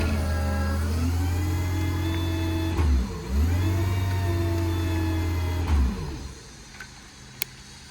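A 2015 Ford F550 V10 crane truck engine runs steadily with a deep, loud drone, dipping and recovering twice as if restarted, then cutting off near the end, leaving quieter background.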